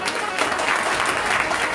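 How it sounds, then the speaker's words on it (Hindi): Loud, dense applause from devotees for kirtan performers at a Bhagavat katha satsang, a continuous wash of clapping with voices mixed in. "एक बार इनके लिए जोरदार तालियों से"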